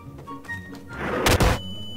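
A rocket launches in the sandbox game Garry's Mod: one loud, rushing whoosh bursts up and fades within half a second over a low background hum.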